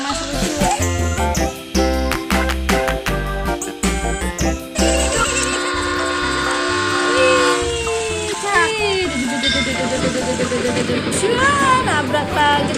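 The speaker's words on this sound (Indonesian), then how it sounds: "Oke, kita jalanin, teman-teman. Kereta api Thomas lucu." A Thomas toy train runs loudly and continuously on its track, with chugging rhythm, bright electronic tones and whistle-like sweeps throughout.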